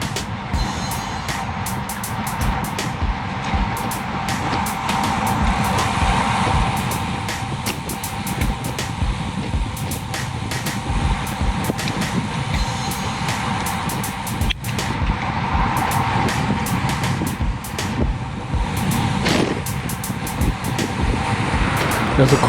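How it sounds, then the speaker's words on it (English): A car comes up behind a group of cyclists on a road, a steady engine and tire rumble under continuous wind noise, with people talking over it. "There's a car behind us."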